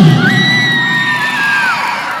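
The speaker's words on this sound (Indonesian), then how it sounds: "Mana tepuk tangan untuk mana?" A crowd cheers and whoops for a kempo fighter at a Gorontalo event, with a long high whistle-like tone riding over the steady, loud roar of voices.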